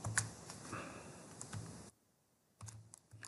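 Laptop keyboard typing up close, quiet clicky keystrokes in short bursts with a brief pause partway through, no talking.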